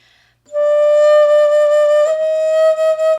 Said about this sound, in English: In the high register on bass flute, it's gonna sound a little bit more airy than flute.